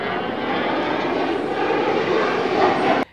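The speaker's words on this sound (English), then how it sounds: "is like an airplane sound as it approaches us" An approaching airplane gives a loud, steady, broad engine roar that holds for about three seconds and then cuts off sharply.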